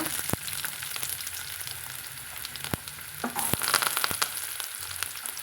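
Small shallots frying with mustard seeds in hot oil make a close, continuous sizzle, punctuated by sharp pops and crackles from bursting seeds and a few clinks of stirring.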